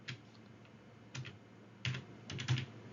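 Keystrokes on a computer keyboard while entering a word into an Excel spreadsheet cell, a few soft scattered clicks followed by a denser burst of taps near the end, close and fairly quiet with no talking.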